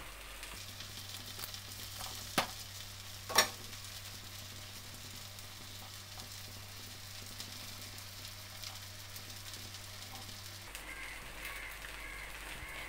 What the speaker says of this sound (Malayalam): നമ്മുടെ മീൻകറി ഇതാ തിളച്ചുകൊണ്ടിരിക്കുന്നു.